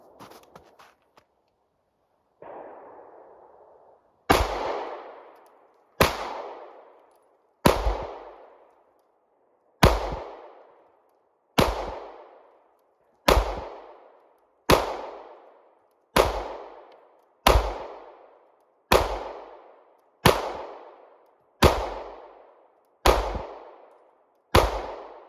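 A CZ clone pistol fires 147 grain rounds at a target, about a dozen sharp, loud single shots spaced roughly one to two seconds apart, each ringing briefly before the next.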